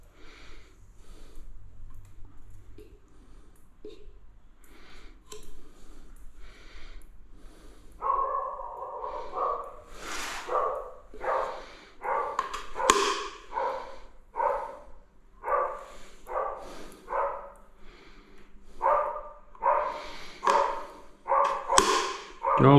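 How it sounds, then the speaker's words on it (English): Dogs bark in repeated short bursts, starting partway through and continuing at an uneven rhythm, fairly close and moderately loud over quiet background noise. "Dogs are woofing at something."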